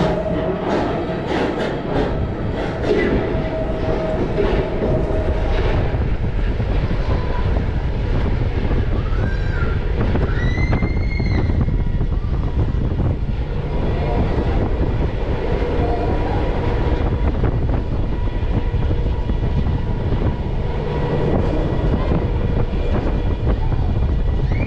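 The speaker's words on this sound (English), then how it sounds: "it is quite a slow lift hill on our way up to the top of Kumali" Kumali, a Vekoma SLC roller coaster opened in 2006 at Flamingo Land, climbs its slow lift hill with a steady rumbling, clattering rattle. Breezy wind buffets throughout, heard from on board.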